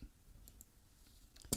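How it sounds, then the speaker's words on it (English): A few sharp computer mouse clicks, a quiet pair near the middle and a louder cluster at the end, tapping on an otherwise quiet desk while loading balloon launcher software. "Just a couple more mouse clicks here, and we'll have it"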